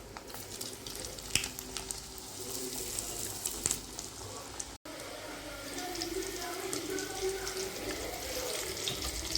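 Dry fruit snacks deep-frying in hot oil in a kadai, giving a steady, moderate hiss and crackle with a few brief pops, and a voice talking faintly underneath.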